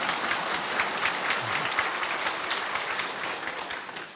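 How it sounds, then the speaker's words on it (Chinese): An audience applauds at a cross-strait peace forum and ancestral ceremony, producing dense, steady clapping that fills the whole stretch at an even, fairly loud level before tapering slightly at the end. "这个时候各位要鼓掌一下。"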